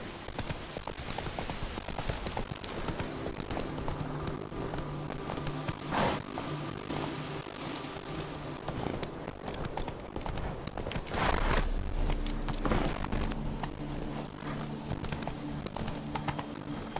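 The horse Roach galloping in The Witcher 3 video game, with steady rhythmic hoofbeats on ground continuing throughout, moderately close under ambient outdoor game sound, with a brief louder burst midway.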